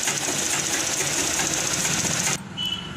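Sewing machine stitching the lining fabric of a blouse, a loud, close, steady mechanical whir that cuts off near the end, leaving a quiet room with a faint thump.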